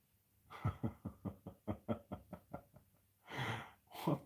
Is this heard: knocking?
yes